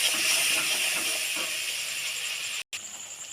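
Spice paste frying in a pan for a Chital fish recipe, a steady bright sizzle and hiss that holds throughout, cut by a brief gap near the end.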